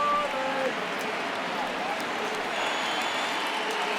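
Virtual stadium crowd in MLB The Show 19 during a Dodgers at Marlins baseball game, a steady roar of cheering that swells on a full count and holds throughout, with a faint announcer voice underneath.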